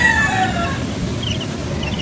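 Young gamefowl chicks, about three weeks old, and backyard chickens make soft, steady chirping and clucking over a constant hiss of background noise, with no talk.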